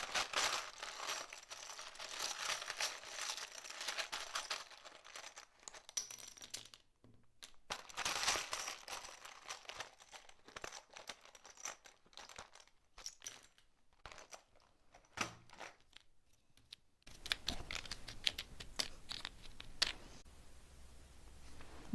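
Tarot cards are shuffled with papery crinkling and soft crunching rustles in bursts, pausing briefly between handfuls, close by with no talking.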